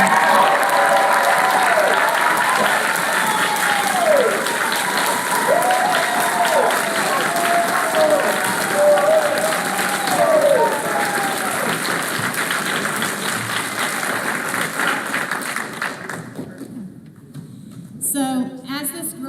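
An audience at the national Novice Certamen finals gives the team sustained, dense applause that tapers off near the end, with a voice speaking over it at first.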